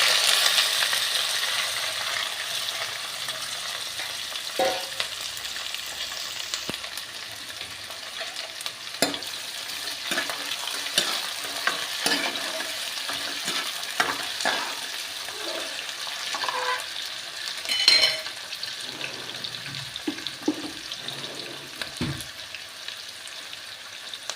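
Chopped onion hits hot oil already spiced with cumin seeds, giving a continuous sizzle broken by frequent scraping and stirring clicks over about twenty-four seconds while a ridge gourd curry gets started.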